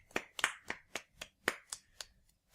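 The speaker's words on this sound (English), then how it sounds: "So, round of applause for Sony." Eight or nine separate, crisp hand claps land in a loose rhythm, close and dry, like a single person or a few people clapping alone.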